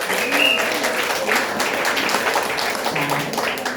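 Warm applause from a crowd at a business event in Cheongju, a loud continuous wash of clapping hands with scattered cheers and voices mixed in.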